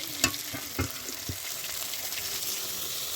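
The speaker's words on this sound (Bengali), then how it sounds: "মশলাটা ভালো করে একটু ভাজবো যাতে আদার কাঁচা গন্ধটা চলে যায়" Spices and ginger fry in a pan, a soft continuous sizzle with a few sharp knocks and clatters of a spoon against the pan early on; no voices.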